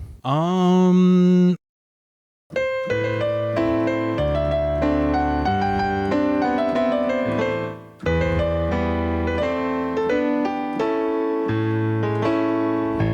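Solo piano plays a lively dance tune with a repeated bass pattern under a bright melody, briefly pausing after a short opening phrase.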